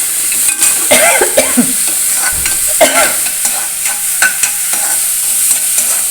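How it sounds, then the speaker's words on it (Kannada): Chopped capsicum fries in a pan for bread toast, giving a steady loud sizzle with repeated scraping stirs of a spoon against the pan, close up and without talk. "ಒಂದು ಸ್ವಲ್ಪ ಕ್ಯಾಪ್ಸಿಕಮ್ ಹಾಕ್ತೀನಿ ಫ್ರೈ ಮಾಡೋಕ್ಕೆ"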